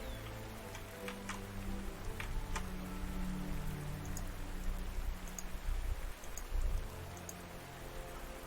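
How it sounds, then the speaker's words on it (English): Rain falls in the video game Panzer Corps 2, a steady hiss of raindrops with scattered ticks and low rumbling, soft and continuous without talk. "it's raining once again"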